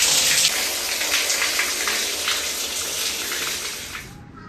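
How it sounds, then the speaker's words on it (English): Steady, full hiss of water pouring from an overhead rain shower in an airport lounge, continuous and close, ending abruptly as the flow shuts off. "I really, really enjoyed taking a rain shower"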